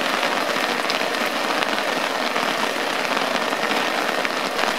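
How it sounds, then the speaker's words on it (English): Heavy rain pours steadily in a northern mountain rainforest during wilderness camping, a dense, continuous hiss of drops hitting surfaces close by with no pauses or voices. "So it's raining even harder."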